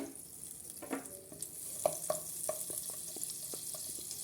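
Grated garlic sautéing in butter in a pan over low heat: a soft, steady sizzle with scattered small clicks and spatula scrapes, fairly quiet and close, with no voices.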